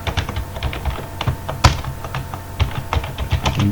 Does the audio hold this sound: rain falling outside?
no